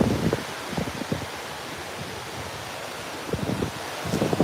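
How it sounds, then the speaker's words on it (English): Wind gusts buffet the microphone on Enoshima Beach near Kamakura, coming in rough bursts at the start and end with a softer, breathy rush between. "oops, so windy"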